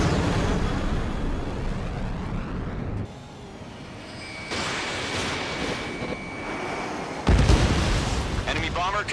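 An enemy bomber is shot down by a missile in Ace Combat 7, with rumbling jet noise and deep booming explosions. One loud burst lands near the end, and radio voices talk over the action.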